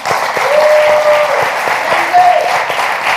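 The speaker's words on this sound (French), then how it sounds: "Je voudrais qu'on vous applaudisse très," An audience claps loudly and steadily at a café gathering, a dense continuous applause with a few cheers and whistles rising above it, close and filling the room.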